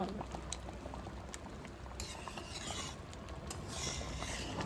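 South Indian sambar boiling in a covered pot, a steady bubbling simmer with soft gurgles and occasional clinks, fairly faint and close, with some voice in the background.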